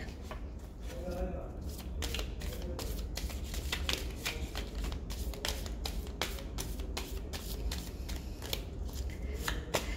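Tarot cards being shuffled in quick riffling bursts, a dense run of crisp flicking taps that continues steadily throughout, close and fairly loud.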